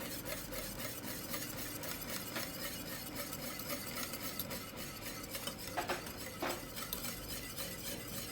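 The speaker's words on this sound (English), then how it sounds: "I'm going to also add some carnation milk to it, and I'm going to whisk it in" A whisk stirs carnation milk into a pot of peanut porridge, giving a soft, continuous scraping and swishing that stays quiet and even throughout, with no talking.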